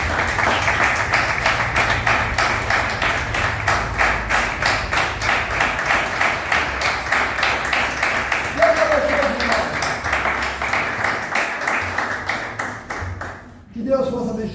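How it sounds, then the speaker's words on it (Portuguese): A church congregation claps in a steady, rhythmic beat that fills the room for most of the stretch, with a voice carrying over it, before the sound cuts off abruptly near the end. "Vamos dar uma salva de palmas"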